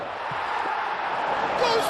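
Football stadium crowd in eFootball PES 2021 during a simulated Turkey vs Paraguay match, a steady dense roar of cheering throughout with a brief swell near the end.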